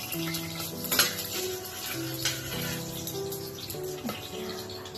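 Spices hit a hot pan in a home kitchen and sizzle steadily, with stirring scrapes and clinks over the constant frying hiss.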